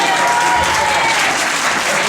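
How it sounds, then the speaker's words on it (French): Church congregation applauding and cheering at a worship service in Mauritius, a steady dense wash of clapping with crowd voices mixed in, loud and close throughout. "J'aimerais qu'on acclame Jésus."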